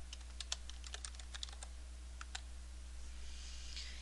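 Computer keyboard typing, quiet and near, in short irregular bursts of key clicks over a steady electrical hum, with no voices.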